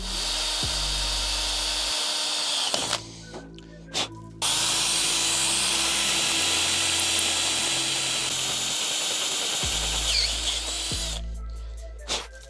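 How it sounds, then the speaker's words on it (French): A power drill bores a 10 mm hole through a metal bracket, a loud, close, steady whine that runs in long stretches broken by short pauses, with no talking. "Donc je vais déjà me faire mon perçage à M10."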